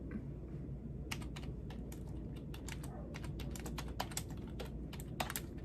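Steady keyboard typing in bursts of rapid clacks over a constant low hum, fairly close and moderately loud, with no talking during a live wrestling-event reaction stream.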